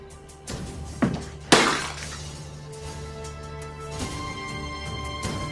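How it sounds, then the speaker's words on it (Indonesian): A clay water jug drops and shatters in a historical drama scene, a sharp crash of breaking pieces over a steady music bed, followed by lighter scattering clatter. "kendi itu pun akhirnya terjatuh dan pecah"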